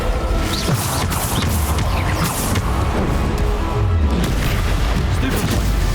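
Descendo spell slams in the Hogwarts Legacy video game, heavy booming impacts and crashes scattered through a busy, loud battle mix with a voice calling out spells over it.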